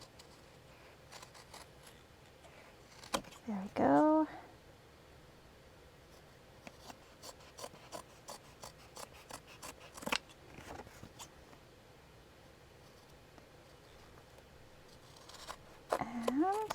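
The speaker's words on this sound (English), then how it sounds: "I think I can just use these scissors. They're pretty good for fabric and whatnot." Scissors snip through fabric in a few brief, quiet cuts scattered between short spoken remarks, trimming the edges of a cloth piece for a junk journal.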